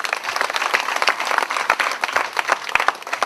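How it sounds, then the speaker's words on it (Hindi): Lively applause from a small group at a network marketing meeting, many hands clapping irregularly with some loud distinct claps standing out, close and energetic throughout. "जोरदार तालियां देंगे संचिता मैडम को"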